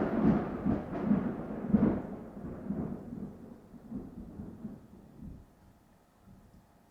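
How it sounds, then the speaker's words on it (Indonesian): Thunder booms during heavy rain in a deep, rolling rumble that starts loud and slowly fades over several seconds. No voices are heard. "Yes, itu tadi geluduk."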